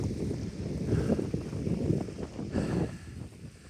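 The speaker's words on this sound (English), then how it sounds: "A little bit windy, but sun's still out." Wind gusts across the open shore of Malham Tarn, an upland lake on the Pennine Way, as a steady, close buffeting rumble that swells and eases for a few seconds with no one speaking.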